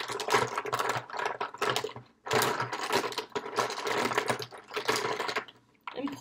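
Lipstick tubes are stirred and jumbled together in a container, a busy rattling clatter of small plastic cases knocking against each other in close, fast bursts with a brief pause midway.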